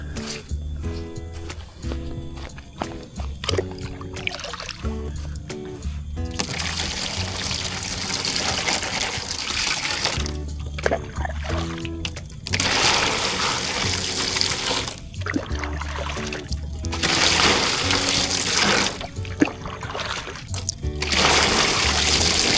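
Water pours into a toman fish breeding tank in long gushing bursts that stop and restart several times, loud and close, with quieter gaps between pours.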